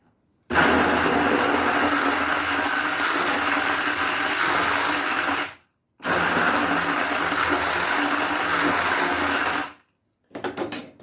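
A kitchen blender crushes ice and falsa berries into juice, a loud, steady whirring drone that runs for about five seconds, cuts out briefly, runs again for four seconds, then gives a few short closing bursts.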